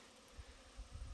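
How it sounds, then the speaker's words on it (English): Honeybees buzzing at a full beehive outdoors, a faint, low, continuous hum with slight swells and no voices. "That number 3 box is a full beehive."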